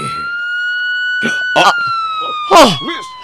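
A police car siren holds a steady, loud wail that droops slightly in pitch, with short shouted voices breaking in over it.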